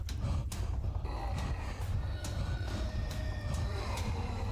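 A video game character in the Deep Fog demo breathes heavily and loudly while sprinting, with rhythmic, breathy gasps repeating about every half second over a low, steady rumble.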